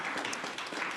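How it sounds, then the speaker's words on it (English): Audience applause at an OTA session honoring its past presidents: a steady, dense wash of clapping filling the whole moment, fairly soft and diffuse, with no voices on top. "So first of all, big round of applause for them,"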